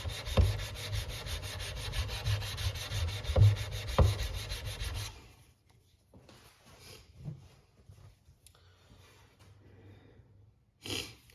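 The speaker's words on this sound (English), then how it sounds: "this gives you an idea how to sharpen a chisel" Wood chisel blade being sharpened, a close, steady rubbing and scraping of repeated strokes for about five seconds, then near silence with a few faint handling sounds.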